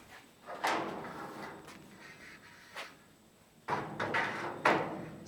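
A metal frame piece for a 5' x 3' steel storage shed door slides and clanks into place: scraping metallic slides and a few sharp knocks, close and moderately loud, with no speech.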